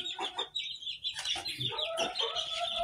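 A Burmese chicken rooster clucks and calls in short bursts, close by, with a few quick cackling notes and no talking.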